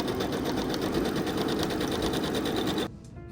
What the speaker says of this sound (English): The first stitch I'll be using is a straight stitch. Then a zigzag stitch.